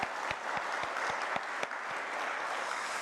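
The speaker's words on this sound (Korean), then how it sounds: "우리 박수 한번 하겠습니다." Applause from a church congregation during a Korean Sunday morning service, a dense, sustained wash of clapping from a large crowd with a few sharper individual claps near the start.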